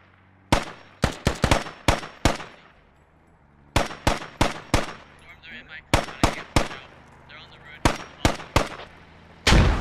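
Gunfire in a video game battle: loud sharp single shots and short clusters of cracks spaced irregularly throughout, with faint voices in the gaps between them.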